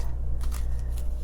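Tarot cards being shuffled, with a few soft papery riffling bursts over a steady low hum, close by and fairly quiet, no voices.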